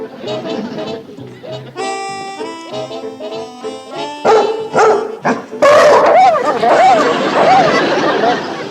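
Man imitating a dog's bark with his voice, giving a string of yapping, bow-wow calls in a TV comedy scene, followed by louder excited vocal chatter.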